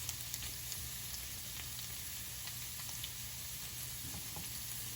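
Pork and garlic browning in a pan for Bicol Express, giving off a steady close sizzle and crackle with scattered pops and a low hum beneath, no voices.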